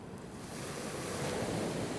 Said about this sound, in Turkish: Ama şey bayağı rüzgar alıyor burası.